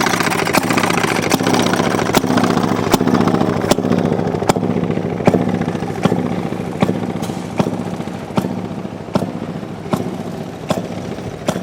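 An antique Maytag 92 stationary engine runs at a Coolspring engine show and swap, a steady low idle with sharp, evenly spaced firing pops about every three-quarters of a second over a continuous mechanical hum.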